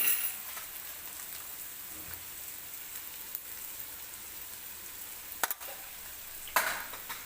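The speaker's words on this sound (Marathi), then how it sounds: "तर मी हिरवी मिरची टाकल्यावर सुद्धा हे छान असं कांद्यासोबत भाजून घेतलेलं आहे बघा" Green chilies and onions fry in a pan, a soft steady sizzle with occasional sharp scrapes and taps of a spoon stirring, fairly quiet throughout.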